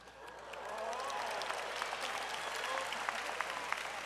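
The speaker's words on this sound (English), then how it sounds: "Let's give these ladies a special round of applause." An audience claps steadily in sustained applause, a dense wash of hand claps from a crowd at moderate distance during a university convocation.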